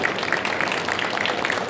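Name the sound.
audience applause for pastry chef Iginio Massari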